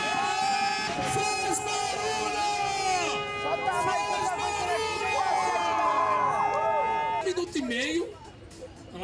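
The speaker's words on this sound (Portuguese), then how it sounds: "Tudo bonitinho, tem ambulância." An ambulance siren wails on Avenida Paulista in São Paulo, with rising and falling tones sounding close and loud amid crowd noise and people talking, then fading near the end.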